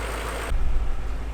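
A warmed-up Dinan-tuned BMW E39 M5 with the Dinan S2 package idles with a steady, close low rumble, after a brief burst of broader hiss at the start.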